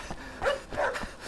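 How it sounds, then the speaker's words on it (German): Dogs barking in an audio drama, a few close, sharp barks and yips in quick succession over a low, noisy background, loud and insistent. "Doch die Hunde dachten nicht daran und jagten Elton"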